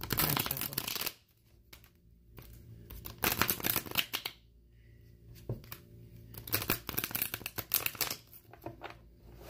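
Tarot cards being shuffled by hand in close, crisp bursts of riffling and sliding, with a short quiet gap near the start and then steady flurries of card noise through to the end, no voices.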